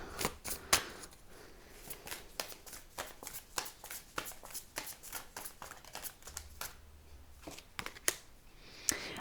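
Tarot cards being pulled from a deck make a quick series of crisp, close slaps and riffling snaps that land in uneven bursts, with brief quiet gaps between the card movements.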